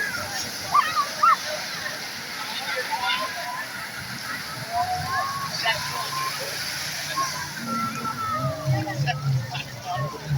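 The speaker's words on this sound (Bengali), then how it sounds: "এই ঢেউটা অবশ্যই এদিকে আসবো মনে হইতেছে।" Sea waves rolling in and splashing on the beach at Cox's Bazar, a steady watery rush with small splashes, while people talk and exclaim close by over it.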